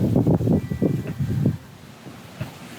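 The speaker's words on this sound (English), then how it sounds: "Really strong breeze." Strong gusts of Hurricane Ian blow near a dock in Cayman. The wind buffets the microphone in heavy, rumbling bursts for about a second and a half, then eases to a softer, steady roar.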